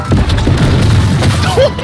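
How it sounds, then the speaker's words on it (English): Heavy, distorted booming bass blasting from overdriven speakers, loud and constant for a couple of seconds, with low thuds and a voice faintly mixed in. "it sounds like one of those meme videos where it's just constant bass and it's blowing out your ears"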